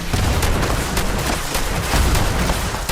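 Rapid, dense gunfire from a Fallout 76 firefight rattles without pause for three seconds, loud and close, with low booming rumble underneath.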